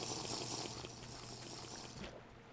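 Water being collected in Minecraft, a steady rushing, bubbling liquid sound like filling or pouring, continuous and fairly faint, cutting off abruptly near the end.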